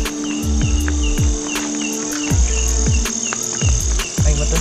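Steady cricket chirping fills the night air on Mount Salak, a dense insect chorus with repeated pulsing calls and a constant high drone.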